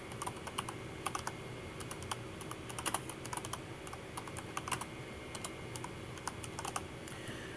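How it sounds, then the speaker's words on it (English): Quiet, rapid typing on a computer keyboard, steady irregular key clicks throughout with no voice. "we're going to type in Microsoft PowerPoint"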